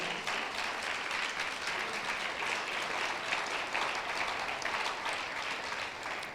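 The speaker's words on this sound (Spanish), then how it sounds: "Apláudale al Señor si le quiere aplaudir al Señor." A church congregation claps for the Lord in a steady, dense wave of applause that holds at an even level for several seconds, with no voices rising above it.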